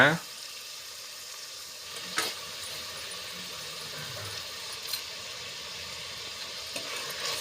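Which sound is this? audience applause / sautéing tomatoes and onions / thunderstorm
sautéing tomatoes and onions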